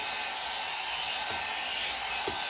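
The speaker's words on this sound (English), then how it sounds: "Blow dry it and set it in the sun a little bit." A hair dryer blows steadily on grey hair for a couple of seconds, a constant close whoosh with no talking.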